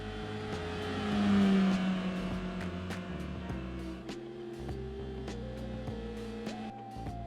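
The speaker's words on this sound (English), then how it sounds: "you can hear the crying Honda Fit again because of the CVT" A stock 2001 Honda Fit with a CVT drones through a lap in Gran Turismo 4, a steady whining engine note that rises slowly in pitch, with faint clicks and track noise around it and no voices.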